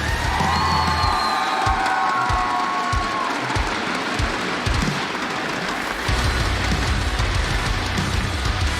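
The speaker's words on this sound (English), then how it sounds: "One more round of applause" A large crowd at a Rainbow Six esports tournament in Las Vegas cheers and claps continuously, loud and sustained, with whoops and shouts rising over the dense applause.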